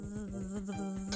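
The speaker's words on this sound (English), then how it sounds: "We're gonna fight the bees." Bees buzzing in a video game, a steady droning hum with a fast pulsing flutter, moderately quiet and continuous throughout the brief moment.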